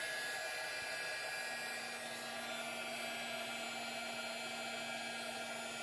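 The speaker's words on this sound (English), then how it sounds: "So I'm going to heat up my heating gun some." A heat gun blows continuously with a steady, loud, even whoosh of air and no pauses or talk.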